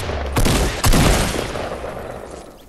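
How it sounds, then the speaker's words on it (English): Gunfire in a shooter video game: two close, loud bursts of shots in quick succession with a booming low thud, then a fading rumbling tail. "Timmy, shoot him!"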